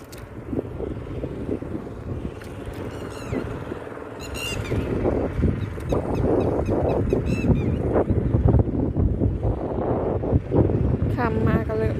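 Wind buffets the microphone while out on a small boat during evening fishing, a steady rushing roar with engine-like rumble and occasional faint bird chirps, growing stronger in the second half.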